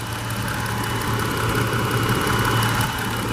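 2018 Jeep Wrangler Sport S V6 engine idling steadily under the open hood, a close, even rumble with a constant low hum and no change in revs.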